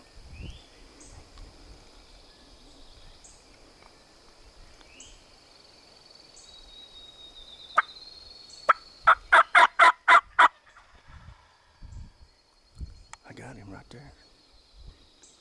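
Wild turkey gobbling outdoors, a loud rapid burst of gobble notes near the middle, with quiet field ambience and soft talk around it.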